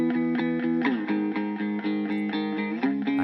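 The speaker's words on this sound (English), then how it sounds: "So the guitar on its own sounds like this." Undoubled electric guitar chugging distorted power chords alone, a steady run of close, loud chord strikes with a few chord changes and no voices.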